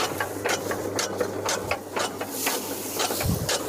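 A chaff cutter machine chops paddy straw for oyster mushroom bedding, a steady mechanical whir with rapid rhythmic chopping ticks and a low engine drone, continuous and close.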